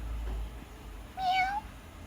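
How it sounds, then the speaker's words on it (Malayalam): A single close cat meow rises and falls for about half a second over a quiet room background, with no other sounds around it. "അടുത്ത പൂച്ചനെ കാണിച്ചു തരാം"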